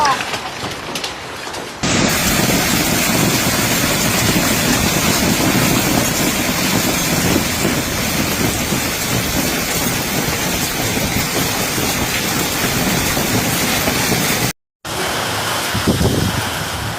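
A sudden hailstorm of golf-ball-size hailstones pounds Naples and the Vesuvius area, a dense, loud, unbroken roar of impacts lasting many seconds, cut off briefly near the end before resuming.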